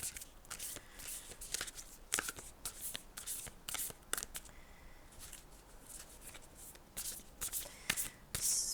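Tarot cards being shuffled close up, a quick crisp riffling with repeated bursts of flicks and taps, no talking.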